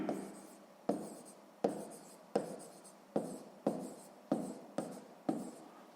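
Pen writing on paper while working out a sixth-grade math exercise, a steady series of scratchy strokes in regular bursts, each starting with a sharp tap, close and quiet with no talking.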